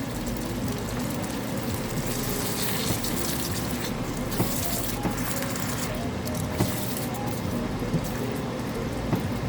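Water pours into a bottle while a sauce is made for butter paneer in a kitchen, a steady gushing, filling splash lasting several seconds at close range, with faint incidental knocks.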